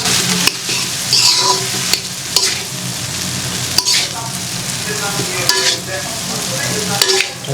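Vegetables and shrimp being stirred and fried in a pan with Maggi masala, a steady close sizzle broken by repeated sharp scrapes and clacks of the spatula against the pan.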